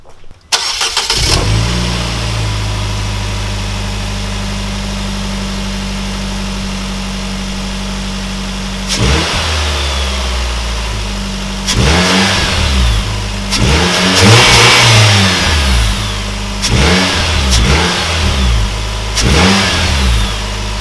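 Car engine cranks and catches after a spark plug tune-up and valve cover and intake manifold gasket replacement, then idles steadily before a series of loud, close revs that rise and fall.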